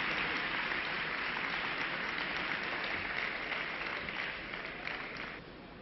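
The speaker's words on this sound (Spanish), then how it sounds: "Carme Roscalleda, un aplaudiment, sisplau." Audience applause at a Barcelona gastronomy forum, a steady dense patter of many hands clapping for a chef after a dish is presented, fading slightly toward the end with no talk over it.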